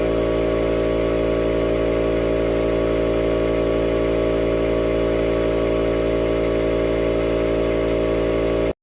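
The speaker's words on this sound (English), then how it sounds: "First, we will pressurize the tank to maximum before adjusting tool pressure." An air compressor runs steadily while pressurizing its tank, a loud, constant motor hum and drone that holds evenly and then cuts off abruptly at the end.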